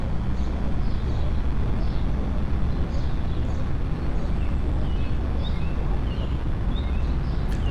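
Steady, dense roar of a PBY Catalina radial engine running in X-Plane 11, loud and constant throughout with no breaks or talk.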